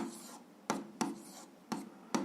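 A pen writing out an algebra solution on paper, several short scratchy strokes at a slow, uneven pace, heard up close with no talk.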